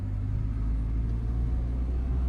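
A car engine rumbles steadily at close range, likely from inside the cabin during a driving lesson as the learner picks up speed, with a low continuous drone and no talk.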